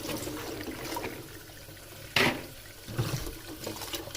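Snow peas picked from the roadside are swished and rinsed in a basin of water, with quiet sloshing, a sharp splash midway and a few softer splashes after, close and fairly faint.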